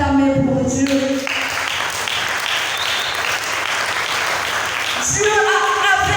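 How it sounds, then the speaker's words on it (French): A church congregation at a Sunday service bursts into loud, dense applause for God, which fills several seconds while sustained musical tones sound at the start and return near the end. "Est-ce que l'on peut acclamer pour Dieu?"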